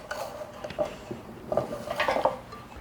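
Thick trail mix brownie muffin batter is scooped and dropped into the wells of a muffin tin, a few soft metallic clinks and dull taps spaced out over a quiet background.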